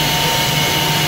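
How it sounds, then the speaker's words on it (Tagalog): A vacuum cleaner running steadily inside a car during a home car wash in Edmonton, Alberta, a loud continuous whine and rush with a faint tonal hum, without pause and with no talking. "I'm gonna do a vacuum, a quick vacuum"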